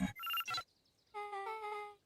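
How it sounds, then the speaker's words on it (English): Electronic keypad entry tones in the Beacon Pines adventure game: a few quick, bright beeps as letters are keyed in, then a longer sustained chime, clean and close with no talk. "entered the letters into the keypad"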